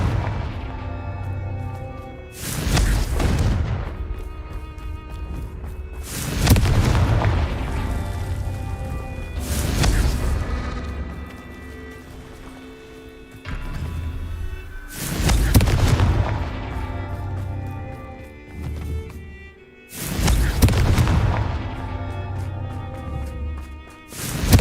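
Confringo spell blasts in Hogwarts Legacy, a series of five heavy booming explosions spaced a few seconds apart, each with a long rumbling decay over a game soundtrack.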